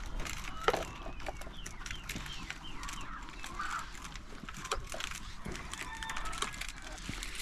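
Hens cluck softly and intermittently in a coop or yard at a modest distance. Scattered faint bird calls and light rustling sit over a low background hum, and no one speaks.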